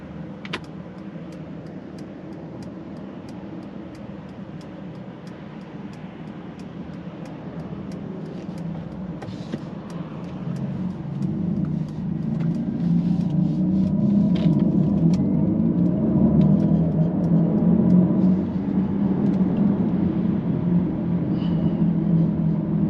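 A 2023 Mercedes-AMG EQE electric sedan with 617 hp accelerates in Sport Plus mode. A low cabin rumble starts steady, then swells and grows louder from about the midpoint, holding strong to the end, with no talk.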